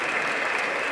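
A crowd claps at a priest's talk during a Spanish tour stop in Cartagena, a brief, dense burst of applause from many hands, steady and loud throughout with no speech.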